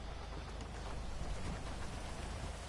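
Heavy rain pouring in the video game GTA V, a dense, steady hiss of downpour with no pauses or breaks.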